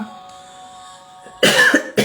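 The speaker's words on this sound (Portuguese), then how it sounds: "Se eu tossir um pouquinho aí," A single sharp cough breaks in close to the mic, followed by a second shorter cough, after a stretch of quiet room hum.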